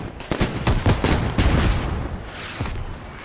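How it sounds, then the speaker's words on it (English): Bursts of rapid gunfire in the video game Squad crackle in quick clusters, loud and close, with booming echoes between volleys in a battle. "explosions in this game are loud"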